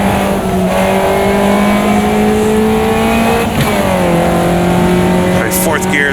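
A Caterham race car in Automobilista 2 at Cadwell Park holds a loud, steady engine drone with shifting pitch through a gear change, someone commentating over it throughout.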